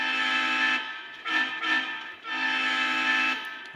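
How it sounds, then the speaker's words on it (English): A model diesel B unit fitted with a TCS sound decoder and high-bass speaker sounds its horn in three sustained blasts with short gaps between them, clear and prominent. "And this just has a single TCS sound in the B unit with a TCS high bass speaker."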